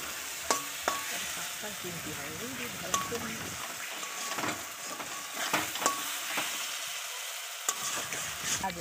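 Spices with Kashmiri chili powder sautéing in a pan with mutton curry, a steady sizzle broken by repeated scraping and stirring knocks, with someone talking over it.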